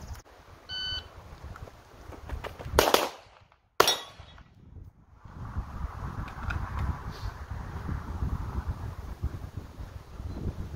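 Two sharp gunshots at an outdoor shooting range, about a second apart, loud and close over steady wind noise, with no talking.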